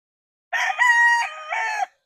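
A sweater gamecock rooster, a Boston Roundhead cross, gives a single loud crow close by. The call rises, holds, then drops into a slightly lower drawn-out ending, with silence before and after.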